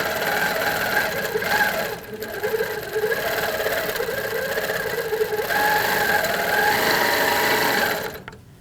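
An HQ Avanté longarm quilting machine stitches steadily, its rapid mechanical whir and needle chatter holding close and even for about eight seconds before it stops, with no voices.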